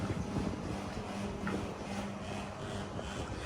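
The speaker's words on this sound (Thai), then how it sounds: "แอร์ดังวือวืออยู่" A steady, broadband mechanical hum from an air conditioner drones evenly throughout, with faint rustling noise and no speech.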